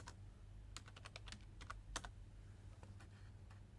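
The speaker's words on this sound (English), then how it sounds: "I will just type Google Colab," Quick, faint clicks of keys as a query is typed on a computer keyboard, a brisk irregular run of taps against a quiet room hum.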